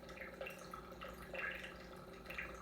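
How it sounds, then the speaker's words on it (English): A hydroponic garden pump just starting up, pushing water through plastic tubes with a steady close gurgling and repeated soft dripping bubbles, spread evenly throughout. "you are going to hear the bubble noise as it transfers from one"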